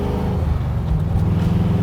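A 1967 Chevrolet Camaro with an LSX 427 engine accelerates hard through corners. Its deep engine rumble is loud and close, with a throaty roar that stays steady and never stops.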